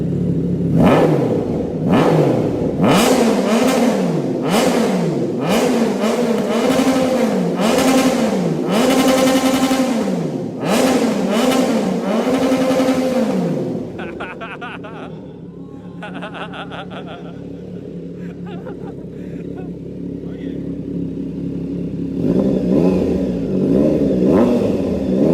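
Triumph Trident 660 motorcycle with an aftermarket exhaust, revved repeatedly in loud, close rising-and-falling bursts for about fourteen seconds, then settling to a rough, deep idle with a couple of lighter blips near the end.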